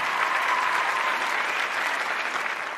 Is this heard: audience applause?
yes